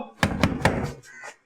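Three firm knocks on a door in quick succession, loud and close, followed by a softer rustle, during a police visit to a house in a crime drama.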